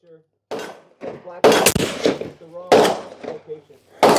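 Loud, sharp rifle shots from a 300 Weatherby firing hunting loads with Peterson brass, H4831SC powder and 200 grain Terminal Ascent bullets, several cracks spaced about a second apart with booming tails.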